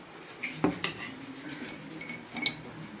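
Black kavuni rice paniyaram batter going into the pan brings a few sharp metallic clinks and scrapes of utensil against cookware, close and isolated, with quiet gaps between.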